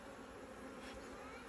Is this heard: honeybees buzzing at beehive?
yes